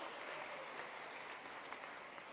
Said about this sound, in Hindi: एक बार तालियां बजा के उनका स्वागत कीजिए।